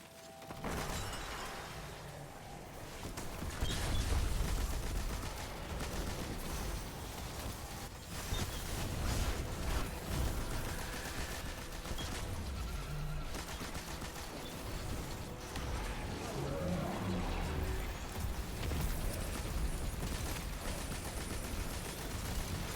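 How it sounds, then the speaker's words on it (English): Sustained video-game gunfire aimed at an enemy's critical weak point, a steady stream of rapid shots and shattering impacts layered over constant combat noise for over twenty seconds. "Shooting the crit point."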